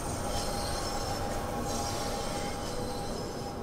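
A London Underground 1972 Tubestock train on the Bakerloo Line in Train Sim World 2 rumbles along with a continuous high metallic wheel screech on the rails, loud and close throughout.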